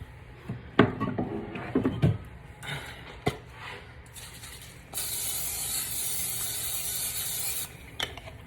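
Cooking oil spray hisses steadily into a pan for about three seconds, preceded by scattered kitchen clatter and knocks from handling utensils and containers.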